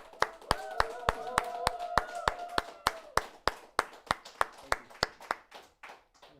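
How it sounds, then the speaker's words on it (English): An audience claps in slow, even unison to welcome a guest to a show, each clap a sharp separate crack in a steady beat, with a brief musical tone sounding in the first half. "please give a warm welcome and a loud applause to Sylvain"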